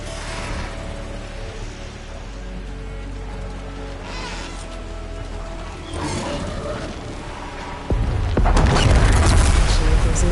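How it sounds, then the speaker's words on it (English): A bomb blast in the Horizon video game bursts loud and broadband near the end, breaking over a steady low rumble and dense in-game machine sounds, with a brief heavier thump earlier in the clip. "This bomb should come in handy."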